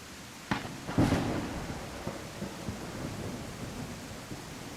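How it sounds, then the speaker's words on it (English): Rain and thunder in the video game I am Jesus Christ: a steady hiss of rainfall with a sharp thunder crack followed by a low rolling rumble, and scattered smaller knocks beneath. "We can also barely hear Satan over the rain"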